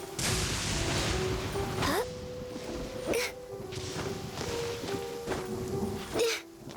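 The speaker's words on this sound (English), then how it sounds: "don't get struck by lightning" Thunder rolls and cracks during a lightning storm in Genshin Impact, several sharp crashes over steady rain.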